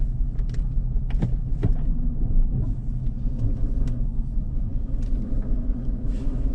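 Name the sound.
Mercedes engine running with one cylinder misfiring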